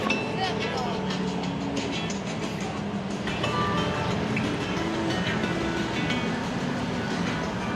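A train rumbles past close by, with clanking and rattling metal in a continuous roar while people talk over it.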